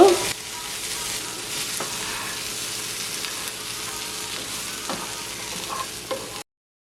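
A brinjal and Maldive fish sambal with lemon juice is mixed in a pan, a continuous frying sizzle under irregular stirring scrapes that stops abruptly near the end.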